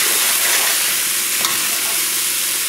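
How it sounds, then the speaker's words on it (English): Chicken with okra sautéing in oil makes a loud, continuous sizzle and crackle, with one brief stirring scrape partway through and no talk. "So we'll go about sauteing this."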